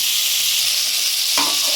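Cauliflower florets, first lightly parboiled with salt and turmeric, fry in oil in a pan with a steady, even sizzle throughout, briefly disturbed by a short stirring scrape near the end.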